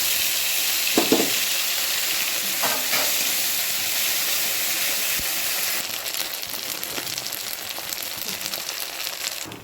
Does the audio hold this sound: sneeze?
no